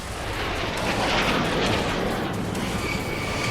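U.S. Air Force Thunderbirds jets produce a continuous, heavy roar that fills the background, loud and steady throughout with no speech over it.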